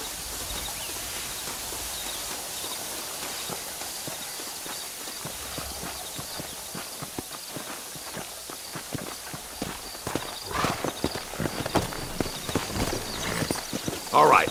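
Horse hooves clip-clop steadily in the video game Red Dead Redemption, a rhythmic walking gait that grows louder and busier toward the end, with a faint whinny and game ambience underneath.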